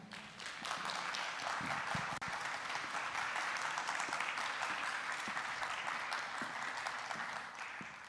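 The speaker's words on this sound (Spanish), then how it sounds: "Por favor, recibamos a estas compañeras con un fuerte aplauso." Sustained applause from a concert audience welcoming performers on stage, dense steady clapping at even loudness throughout, with scattered sharper claps near the front and no speech over it.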